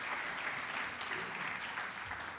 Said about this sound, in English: please give them a round of applause for what they've done so far.